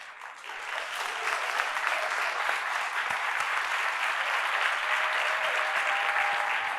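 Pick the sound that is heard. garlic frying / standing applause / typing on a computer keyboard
standing applause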